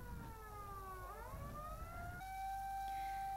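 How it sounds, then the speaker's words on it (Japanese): A fire engine siren wails, sweeping up and down, then settles into a steady high tone, heard from a distance over low rumbling background noise as fire engines and pump trucks respond during a fire drill in a Japanese residential area. "サイレンを鳴らしながら消防車やポンプ車が駆けつけると"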